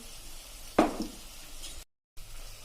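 Green pigeon peas with spices sautéing in a pan, a steady low sizzle throughout with one louder stirring scrape near the start and a brief cut to silence before the sizzle resumes.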